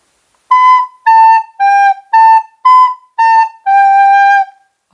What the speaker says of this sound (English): That's how the correct way to blow the recorder, which is using your tongue.